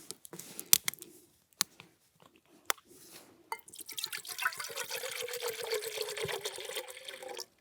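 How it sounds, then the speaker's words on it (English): A few sharp clicks and drips, then water pours steadily into a metal pot at a campsite in boggy conditions, the splashing rising slightly in pitch as it fills. "let's get some water in."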